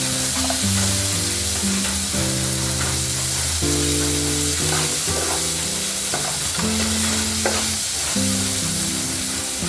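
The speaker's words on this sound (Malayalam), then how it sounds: "ചെറിയൊരു കഷ്ണം ഉള്ളി, ഒരു കഷ്ണം തക്കാളി ചേർക്കണം. ഇത് നന്നായിട്ട് വഴറ്റിയെടുക്കും." Chopped onion and tomato sautéing in a pan for a fish curry give a steady, close sizzle and hiss throughout, with occasional stirring, all under continuous background music.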